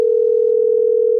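A telephone dial tone heard while placing a call, a loud, steady single-pitch hum sustained without a break.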